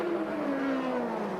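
A Benetton B186 race car with a BMW M12/13 engine roars steadily at high revs, pitch sliding slightly downward, loud and continuous.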